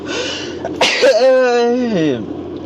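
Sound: sneeze

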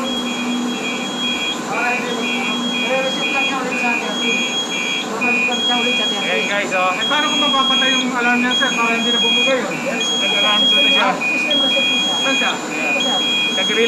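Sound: FM200 fire suppression system alarm during countdown

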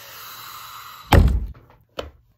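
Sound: kicking a chair

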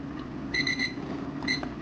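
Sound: kitchen timer alarm going off

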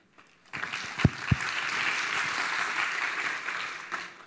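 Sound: audience applause welcoming a conference speaker

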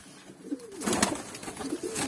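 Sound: pigeons cooing

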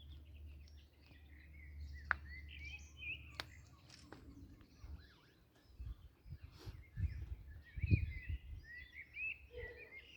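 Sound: birds singing outdoors

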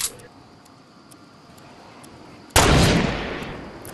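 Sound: gunshots in the video game Fortnite

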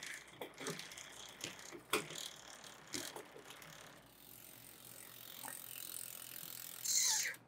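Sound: recumbent trike derailleur shifting chain through gears

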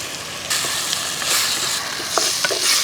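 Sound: tomatoes frying in oil

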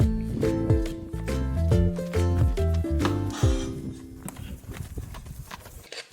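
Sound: horse hooves clip-clopping

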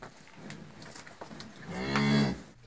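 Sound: cow mooing

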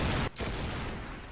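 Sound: gunshots in the video game Arsenal

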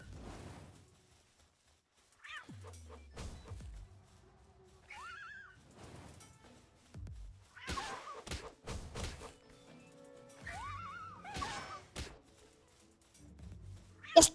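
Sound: cat creature fighting in video game Palworld

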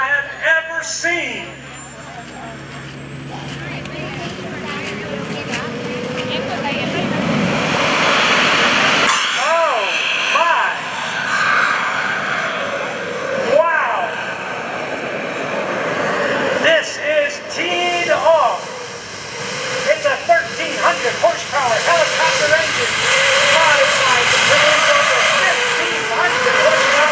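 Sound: jet-powered golf cart engine at an airshow

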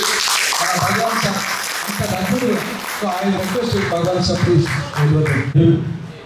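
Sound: audience applause

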